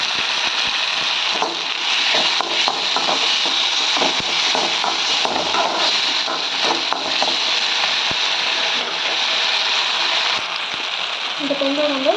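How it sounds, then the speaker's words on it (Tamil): Tomatoes frying in a pan for egg curry give a steady, close sizzle with faint clinks of stirring running throughout, loud and continuous with no voice over it. "இப்போ தக்காளி சேர்த்துக்கலாம்."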